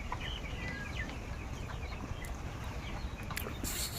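Chickens in a broiler poultry house holding about a thousand birds cluck and chirp faintly and intermittently beneath a steady, dense background hiss that runs through the whole stretch.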